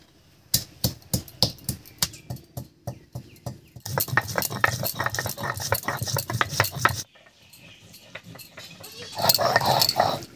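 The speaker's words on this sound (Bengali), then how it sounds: "আর এদিকে আমি গরম মশলাটা বেটে নিচ্ছি।" Garam masala spices are ground by hand, with a regular run of knocking strokes that turns into a denser rhythmic grinding rattle, then breaks off into softer clatter near the end.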